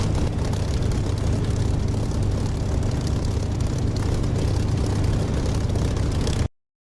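A fixed-wing aircraft engine drones steadily in the DCS flight simulator during a descending turn toward an airstrip, loud and continuous with a rumbling low end, then cutting off abruptly near the end.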